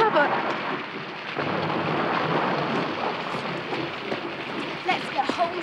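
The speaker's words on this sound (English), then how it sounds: "Sounded like thunder." Thunder rolls as a long, broad rumble under steady rain, filling the whole stretch with a dense wash of noise and a few sharper cracks near the end.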